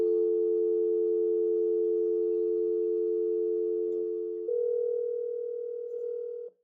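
A phone line simulator puts out telephone tones through an amplifier: a steady dial-tone hum holds, then switches to a different steady tone before cutting off abruptly.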